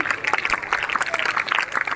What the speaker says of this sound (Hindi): जोरदार तालियों से स्वागत प्यारे बच्चों।